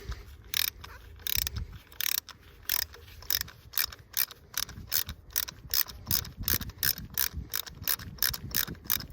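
M10 spark plug socket on a ratchet loosening plugs in a 1998 Volvo S40, a quick run of sharp ratcheting clicks in steady bursts, close and clear with no talk.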